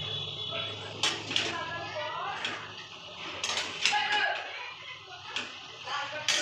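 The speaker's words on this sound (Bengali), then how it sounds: "এবার লাউ শাকটা নাড়াবো।" Bottle gourd greens (lau shak) are stirred in a pan with a spatula, giving scattered clinks and scraping knocks at an uneven pace, under some background voice.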